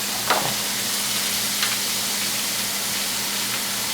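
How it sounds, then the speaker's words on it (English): Cream cheese filling sautés in a hot pan with a steady, close sizzle that holds evenly throughout, broken only by a couple of faint clinks. "Oh, listen to that nice sizzle."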